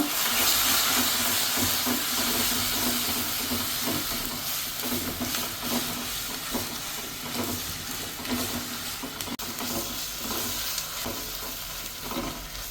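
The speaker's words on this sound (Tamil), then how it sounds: "போட்டுட்டு நல்லா வதக்கிக்கோங்க." Tomato and green chili sautéing with fried papadam in a pan, a steady close sizzle and hiss with scraping stir strokes throughout, no talking.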